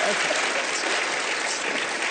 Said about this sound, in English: Give Allison a big round of applause.